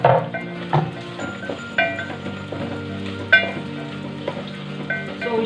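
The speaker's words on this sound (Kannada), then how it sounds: "ಸೊ ಆಲೂಗಡ್ಡೆನ ಹಾಕ್ಕೊಂಡು ಒಂದು 4 ಸೆಕೆಂಡ್ಸ್ ಅಷ್ಟು ಫ್ರೈ ಮಾಡಿಕೊಂಡ್ರೆ ಸಾಕು" Diced potatoes fry in a pan for soya biryani, a soft steady sizzle with occasional clinks of a utensil against the pan, close and fairly quiet, with a faint tonal hum throughout.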